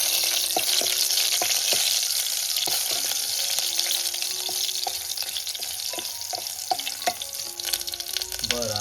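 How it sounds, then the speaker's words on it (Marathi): Garlic and chili fry in hot oil over a traditional wood-fired stove, a loud, continuous close sizzle with scattered clinks and scraping stirs throughout. "लसूण गेली मस्तपैकी. मिरची टाकते. अच्छा. हा. तेल लगेच तापलंय मस्त."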